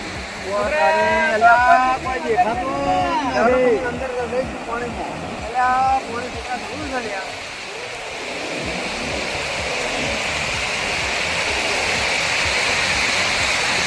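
Sea waves wash onto the shore in a steady, broad rushing roar. People talk excitedly over it at first, and then the surf carries on alone and grows slightly louder.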